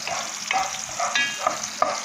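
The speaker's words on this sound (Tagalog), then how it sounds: "Lalagay na ako ng bawang." Garlic frying in a hot pan for a chicken sotanghon soup, a steady close sizzle broken by a few sharp clinks and scrapes of stirring.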